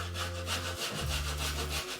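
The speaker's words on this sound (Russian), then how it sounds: "И вот теперь картофель нужно будет натереть на мелкой терке." Potato rubbed against a fine kitchen grater gives quick, rhythmic rasping strokes, close and continuous, with a low hum underneath.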